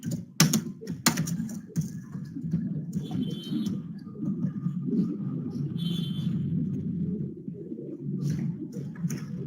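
Keys clack on a computer keyboard in short bursts of typing, with a couple of sharper taps early on, over a low room rumble and faint bird coos in the background.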